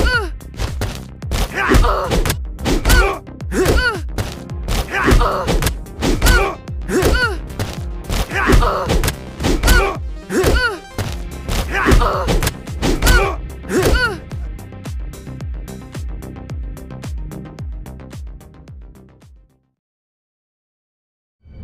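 Rapid impact thuds and whacks from kick attacks in the fighting game Shadow Fight 3, including leg moves, a back kick and a down kick, landing in dense rhythmic bursts with game effects before cutting to silence at the end.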